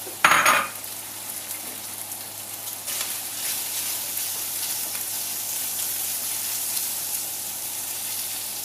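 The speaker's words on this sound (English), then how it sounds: "Add your chorizo." Chorizo frying in a pan with a steady, bright sizzle that holds for several seconds after a brief clatter of it going in, close and fairly loud, with no voices.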